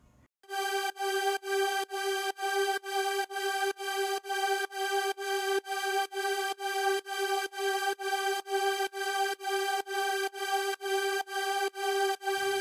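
Synth pad in an FL Studio future rave track, sidechained and EQ'd, pulsing in steady rhythmic swells as the ducking chops each beat, a bright sustained chord repeated evenly and alone.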